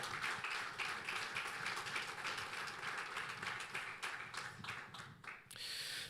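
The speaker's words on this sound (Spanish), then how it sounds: "Fuerte ese aplauso de alabanza al Señor." Applause in praise from a church congregation, a dense steady patter of many hands clapping throughout, thinning briefly near the end before picking back up.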